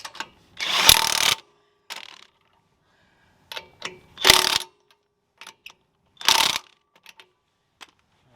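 Lug nuts on a truck wheel are tightened in three loud bursts of rapid ratcheting clicks, each lasting under a second. Scattered light metallic clicks fall in the quiet gaps between them.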